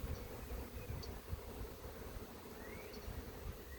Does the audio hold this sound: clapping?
no